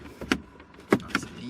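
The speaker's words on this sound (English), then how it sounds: "The surround just clips out" Plastic gear knob surround clipped out of a Nissan 180SX console, a few short close plastic clicks and snaps in a quiet interior.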